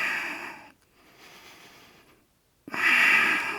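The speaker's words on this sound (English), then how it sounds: "Deep breathing in through the nose, out through the nose." Slow, deep nasal breathing during a yoga tree pose, a long airy exhale followed by a pause and then another strong rush of breath through the nose, close and clear with no talking.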